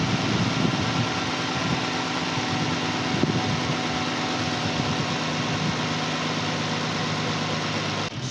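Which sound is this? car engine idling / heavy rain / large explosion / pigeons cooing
car engine idling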